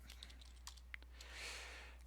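Computer keyboard keystrokes, a quick run of crisp, close clicks and taps at uneven spacing, quiet and alone over a low steady hum.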